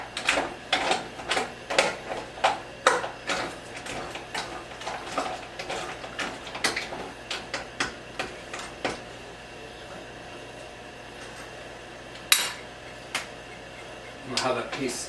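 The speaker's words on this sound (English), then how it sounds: "we'll keep mixing this around until it all melts" Chocolate being stirred in a pan over a flame for salted chocolate-dipped shortbread cookies, with quick repeated scraping and clinking strokes of the utensil against the pan, close and fairly loud, easing into quieter stirring before a few last sharp knocks.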